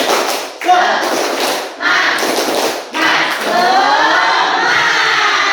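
A school class performs the tepuk semangat clapping chant, children clapping in rhythmic bursts with pauses between them, mixed with their chanted voices in a lively, close classroom.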